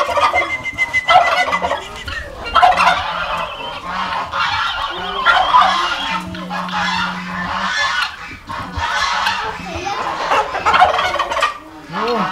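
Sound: turkeys gobbling

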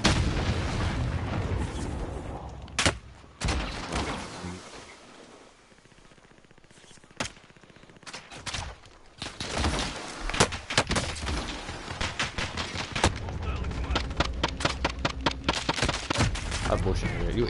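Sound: gunfire in a video game

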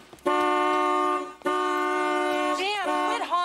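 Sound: car horn honking

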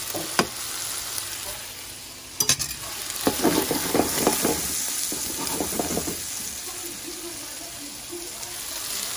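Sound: citrus butter sizzling in a frying pan

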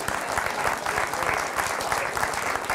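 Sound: audience applause

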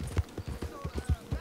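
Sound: horse hooves in Red Dead Redemption 2 video game

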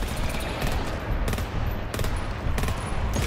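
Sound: machine gun turret fire in video game GTFO

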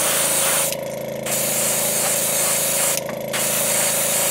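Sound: airbrush spraying Createx transparent bright yellow paint on lure

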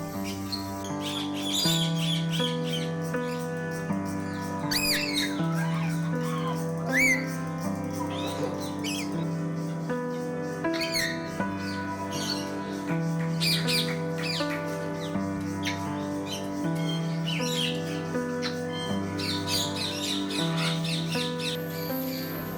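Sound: macaws squawking at Gazipur Safari Park

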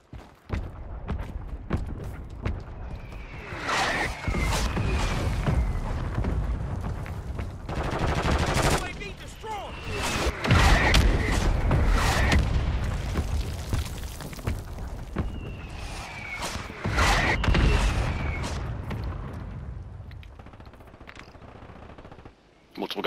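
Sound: mortar strike explosions in a video game (Warzone, Fortune's Keep)

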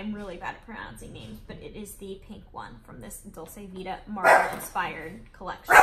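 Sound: dog barking

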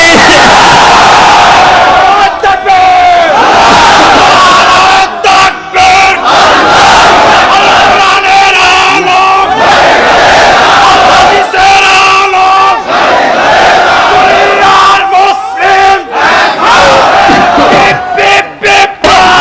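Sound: crowd shouting takbir chant at religious gathering

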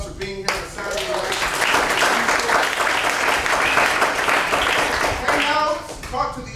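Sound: audience applause at an arts event

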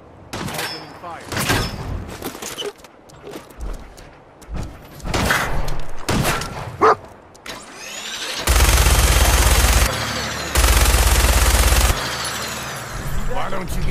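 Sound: gunfire in Fallout 4 video game

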